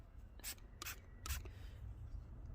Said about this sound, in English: I've got a small foam sort of pad applicator, and I'm just going to spray